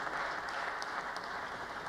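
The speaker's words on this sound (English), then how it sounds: "an applause is definitely well-deserved" An audience applauds at a commemoration in a synagogue, a soft, even patter of clapping that stays faint and constant throughout.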